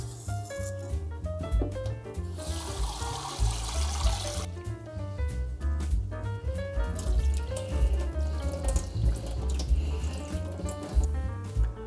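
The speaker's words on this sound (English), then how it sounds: "My first step is to wash my rice." A kitchen tap runs steadily while rice is washed by hand, with water splashing and trickling and the grains swishing and rattling in a pot, continuous and close throughout.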